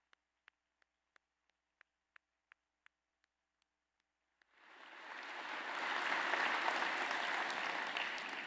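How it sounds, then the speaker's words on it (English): A few sharp, evenly spaced ticks sound in near silence, then an audience at a museum anniversary ceremony for a D-Day commemoration bursts into full, sustained applause that holds steady to the end. "One more round of applause."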